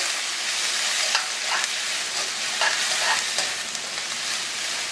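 Scotch bonnet pepper and the white part of scallion fry in a pot with a steady, close broadband sizzle, broken now and then by short stirring scrapes.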